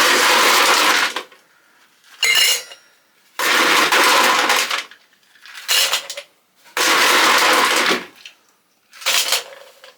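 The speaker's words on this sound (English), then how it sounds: "So now we're just going to add ice." Ice is scooped and dropped into a container for a strawberry daiquiri. Loud, rattling clatters come in alternating long and short bursts with quiet gaps between them, and no one talks.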